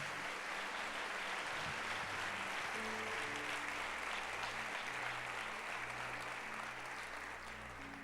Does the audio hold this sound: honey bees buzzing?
no